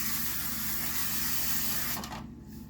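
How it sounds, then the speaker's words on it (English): Crisco butter spray hissing from an aerosol can onto a cake pan, a continuous close broadband spray lasting about two seconds before cutting off, with faint background hum. "I'm going to spray this down with the Crisco butter spray"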